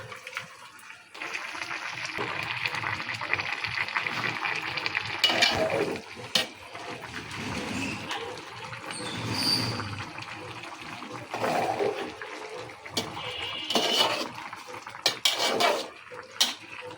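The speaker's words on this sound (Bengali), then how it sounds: "পুঁই শাক, পালং শাক এগুলি রান্না করতে বেশি সময় লাগে না। দিয়ে দিচ্ছি মাছ।" Rohu fish is added to a pan of Malabar spinach cooking, producing a steady close sizzle and watery bubbling with scattered clinks of utensils against the pan throughout.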